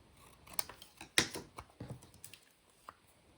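Scissors cut through paper for a torn-paper pocket ephemera holder craft, giving a series of quiet, crisp snipping clicks in an irregular rhythm at close range.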